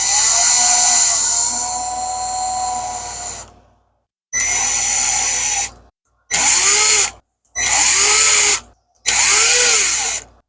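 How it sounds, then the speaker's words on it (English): A power drill whines loudly as it drills holes into stone in one long burst, then four shorter bursts separated by brief silences. "So I'm just going to drill holes in here and then start chiseling it out."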